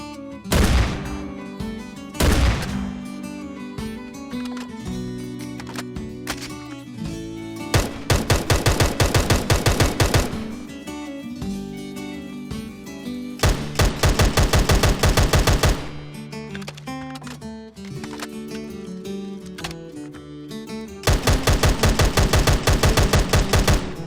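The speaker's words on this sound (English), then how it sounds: "By default, Point Blank comes with 40 weapons, many of which feature different fire modes that you can switch by pressing B." Gunfire from the Point Blank weapons mod in Minecraft, with alternating bursts of rapid automatic fire and single loud shots repeating across the stretch, crisp and close, with no talk.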